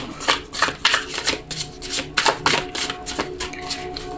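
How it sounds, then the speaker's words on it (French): Tarot cards from an Osho Zen Tarot deck shuffled by hand, a steady run of crisp, close riffling bursts, fairly loud, with no talking. "On va prendre 3 cartes qu'on va recouvrir de 3 par la suite avec le Oshozen Tarot"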